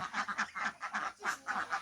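Ducks on a small duck farm give a rapid run of nasal quacks, close and fairly loud, repeating in quick pulses without any talk.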